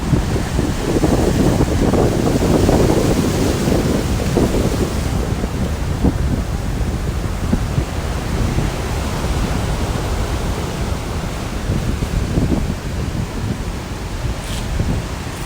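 Pounding sea waves and strong wind from Tropical Storm Karen at the shore in Old Road make a loud, continuous roar of surf and gusts, with no talking.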